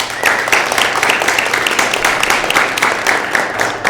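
An audience at an arts society annual meeting applauds steadily, many hands clapping in a dense, even roar from start to finish.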